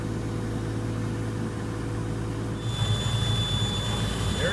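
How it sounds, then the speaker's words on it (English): Air from a compressor blows a pull string through a run of electrical conduit: a continuous loud airy rush that shifts partway through into a stronger hiss with a thin whistling tone, heard without voices. "Got the air compressor over there ready to go."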